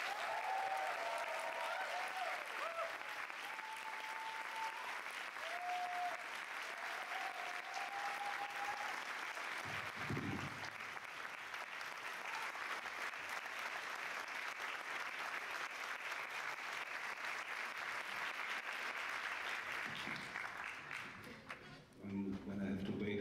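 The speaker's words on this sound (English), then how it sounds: "Je vous demande d'accueillir très chaleureusement Quinzaine Petzold." Cannes audience applauds warmly to welcome a film director, sustained dense clapping from a large crowd throughout, loud and close, with brief voices underneath.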